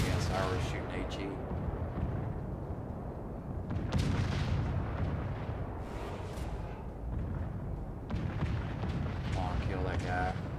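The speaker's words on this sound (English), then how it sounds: "their Farragut's shooting armor piercing against ours shooting HE" Farragut destroyer guns firing shells in a naval battle game, repeated heavy booming salvos and rumbling impacts in an ongoing barrage, with speech over the gunfire.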